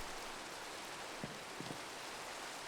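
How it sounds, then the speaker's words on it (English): Steady rain falls in Minecraft, a dense, even hiss with no change in loudness, broken only by a couple of faint short knocks. "So it's raining."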